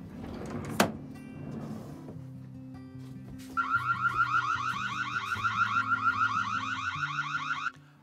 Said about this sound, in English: As well as triggering the siren manually, you can also set it to come on whenever motion is detected